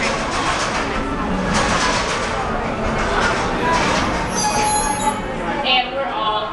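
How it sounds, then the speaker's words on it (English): A Magic Kingdom train braking to a full stop, with loud rolling rumble and rising wheel squeal, under a voice speaking over it. "the train comes to a full and complete stop"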